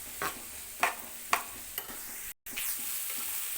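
Onion, tomato and green chillies sautéing in a pan, low steady sizzle punctuated by a handful of spatula scrapes, close and quiet with a brief dropout partway.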